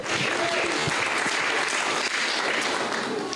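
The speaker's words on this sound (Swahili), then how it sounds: "Give the Lord a clap offering somebody." A church congregation claps together in a dense, steady burst of applause that holds at full strength for a few seconds without a break.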